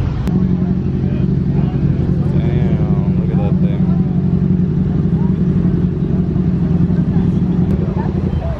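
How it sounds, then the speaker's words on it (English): A loud car engine hums and revs steadily close by, with people talking over the rumble. "I know his car is loud."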